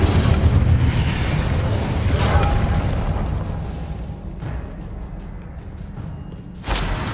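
Incendio fire spell cast in Hogwarts Legacy, a loud rumbling blast with crackling burst that slowly fades, followed by a sharp new pop near the end.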